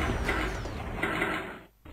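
Forklift lift in a children's cartoon truck video game raises a crate with a mechanical whirring and ratcheting drone that runs steadily, then stops abruptly near the end before a brief return.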